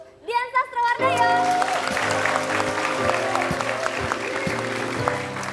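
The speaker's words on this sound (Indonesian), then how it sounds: "Langsung aja saya undang, tepuk tangan boleh untuk Dian Sastrawardaya." A studio audience on an Indonesian television talk show bursts into loud, sustained applause as a guest is invited on stage, with a host's voice carrying over the start and the clapping continuing steadily.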